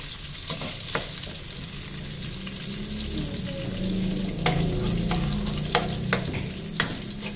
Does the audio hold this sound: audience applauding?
no